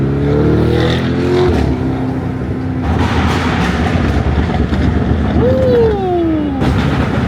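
Lamborghini Urus engine revving on a Miami street, loud rising and falling exhaust roar with a sharp climbing whine near the end, close and continuous.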